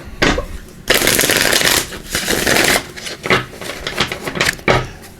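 Tarot cards are shuffled in several loud bursts, crisp riffling and flapping with short pauses between, close up and without talk.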